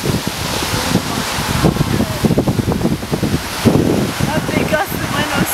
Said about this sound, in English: That big gust of wind on Sun's head.